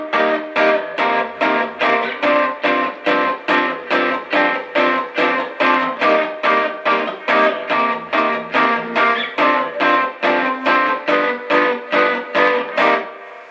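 An electric guitar plays a chord progression that resolves, with a clean effected tone. Steady, evenly spaced chord stabs repeat throughout at moderate loudness, with no voices.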